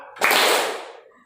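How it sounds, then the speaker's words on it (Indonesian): A classroom of children clapping hands together once during a counting rhythm game, one sharp crowded smack that rings briefly and fades within a second, with no talk over it. "Tepuk tangannya cuma sekali."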